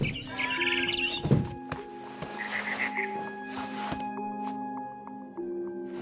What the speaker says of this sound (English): It was a barn swallow going back to her nest.